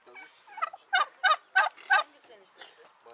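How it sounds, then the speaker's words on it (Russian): A turkey gobbles in a rapid burst of rattling calls on a village farm in Finike, Turkey, several pulses close together, fairly near and clear with no talking over it. "Также здесь есть очень классные, красивые индюки."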